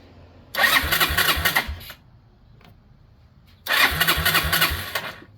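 A 2001 Yamaha Breeze YFA1 ATV engine, just fitted with an aftermarket carburetor, cranks and catches twice, each start a loud burst of rough running lasting about a second and a half, separated by a quiet pause.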